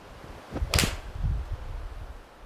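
A TaylorMade RBZ RocketBallz iron strikes a golf ball in one sharp, crisp impact click followed by a brief whoosh as the ball flies off, then quiet.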